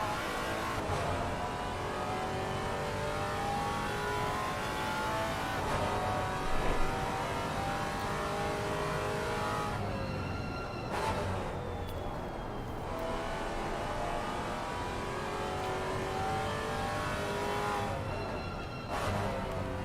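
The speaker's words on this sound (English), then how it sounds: "You can hear the Maserati coming by." A Maserati GT4 race car engine roars past at Brands Hatch with a rising and falling pitch, accelerating and shifting over a steady background of other engines.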